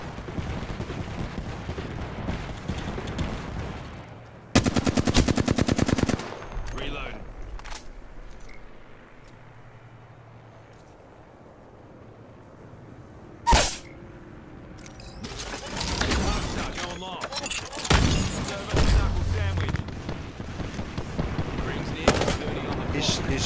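Gunfire in a video game shootout comes in loud rapid automatic bursts and single sharp shots, close and harsh, split by a quieter stretch, with voices talking during the action.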